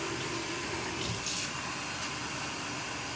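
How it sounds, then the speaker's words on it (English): Cool tap water runs steadily into a sink being filled for hand-washing a merino wool shirt, a constant close rushing hiss with no talk. "We gotta fill the sink with some water."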